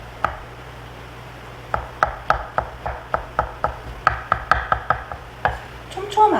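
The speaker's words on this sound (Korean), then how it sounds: "얇게 포를 떠거나 채를 썰어서" A knife slices shiitake mushrooms thinly on a cutting board while preparing a pufferfish dish, a steady run of crisp, close knocks of the blade against the board, roughly two or three per second, with no talk.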